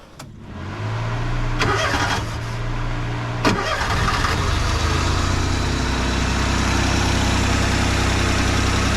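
Mini truck engine, just after a head gasket replacement, starts up and then runs steadily at a close, loud idle for several seconds, with a couple of sharp clanks early on.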